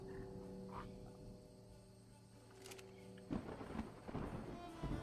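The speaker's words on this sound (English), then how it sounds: "I love the sound of the thunder." Rolling thunder rumbles through a stormy soundscape, with croaking frogs and steady rain in the background; a couple of louder crackling bursts arrive near the end.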